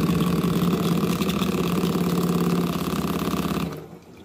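A kitchen sink sprayer fires a rapid, rattling pulse of water, loud and close, like fast machine-gun bursts, before cutting off abruptly near the end.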